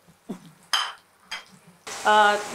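Intermittent spoon scrapes and stirring of khandvi in a pan, followed by a loud burst of sizzling tempering.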